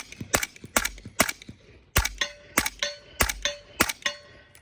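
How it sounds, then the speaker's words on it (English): A Q Honey Badger rifle in 300 Blackout firing 200 grain subsonic rounds, about a dozen sharp, suppressed-sounding shots in quick irregular succession with metallic clinks between them. "So that's the honey badger. Very quiet, very soft shooting."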